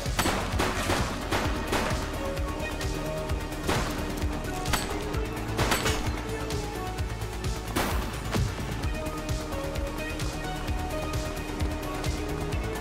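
Gunfire from a plain rifle in the police video game The Precinct, heard as repeated sharp shots and bursts over several seconds, loud and near, set against a busy game soundscape.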